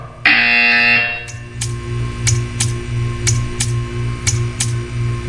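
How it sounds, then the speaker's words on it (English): In Portal 2, a loud harsh buzzer blares for about a second, then gives way to a steady hum broken by a regular series of short, sharp clicks. "You will hear a buzzer."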